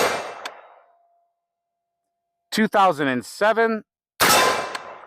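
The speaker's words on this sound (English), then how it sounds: "So we'll give a couple more confirmation shots." An AR-400 Legend rifle firing 180gr FMJ hand loads at a range: two sharp, loud shots, one at the start and one near the end, each with a decaying tail, with someone talking briefly between them.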